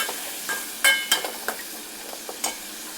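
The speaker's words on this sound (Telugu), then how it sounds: "ఉల్లిపాయలు అన్నీ వేసుకున్నాం కదా, కొంచెం కలుపుకుందాము" Chopped onions frying in hot oil in a pan for a cauliflower curry are stirred with a spoon: a soft sizzle under a handful of sharp scraping strokes against the pan, close and with no talk.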